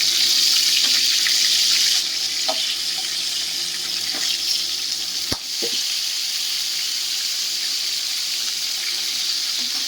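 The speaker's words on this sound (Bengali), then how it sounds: "এবার কাঁকড়াগুলোকে ভেজে নেওয়া হবে" Sundarbans crabs, rubbed with salt and turmeric, frying in hot oil left from frying potatoes: a steady, loud broadband sizzle runs throughout, with a few brief clinks and one sharp knock partway through.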